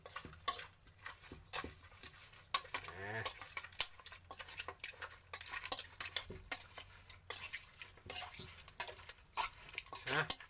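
Close, irregular clinks and scrapes of a utensil working through food in a bowl, with repeated stirring strokes.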